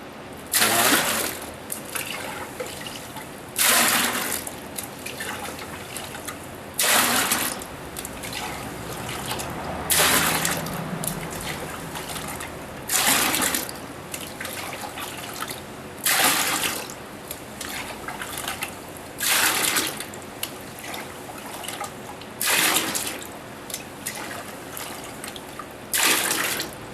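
Water is poured into a bucket to make a concrete mix, heard as repeated bursts of splashing liquid, about nine short pours spaced a few seconds apart, close and fairly loud.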